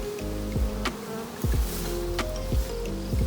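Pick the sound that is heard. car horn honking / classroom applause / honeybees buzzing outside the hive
honeybees buzzing outside the hive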